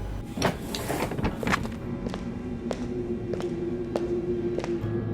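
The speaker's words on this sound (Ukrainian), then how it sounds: "Двері відкрилися" A bus door opening with a rattling mechanical rush and scattered clicks, followed by a steady low engine hum.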